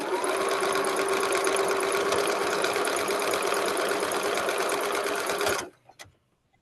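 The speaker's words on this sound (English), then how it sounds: "I'm sewing in a web" A sewing machine stitches quilt pieces in a continuous chain, a loud, close, steady whirring run that stops abruptly near the end, followed by a couple of small clicks.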